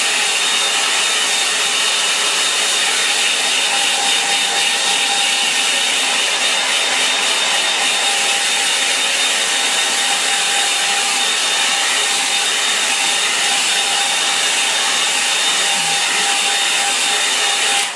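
A hair dryer blowing on a wet line-and-wash watercolour painting on paper: a steady, loud, close airy whoosh with a constant motor whine, unbroken for the whole stretch and without talk.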